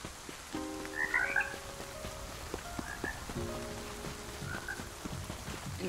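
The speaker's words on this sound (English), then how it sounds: "Oh, it's raining today." Rain patters in the cozy video game Spirittea, a soft constant wash under clear, repeated croaking frog calls and light game tones.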